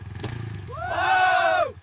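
A motorcycle engine revs, rising into a loud, sustained whine that holds for about a second and then drops off abruptly, close by with a short rumble before it.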